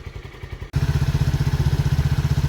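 Lifan KP Mini 150 motorcycle in stock form starting up and settling into a loud, close, thumping single-cylinder idle with a rapid even pulse.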